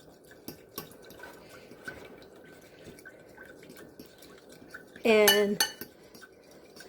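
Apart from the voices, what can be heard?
mixing honey, soy sauce and vinegar steak marinade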